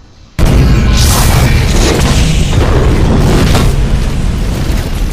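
A loud explosion from the action film A Good Day to Die Hard bursts in after a brief quiet moment, then a heavy, sustained roar and rumble of blast and debris fills the rest of the clip.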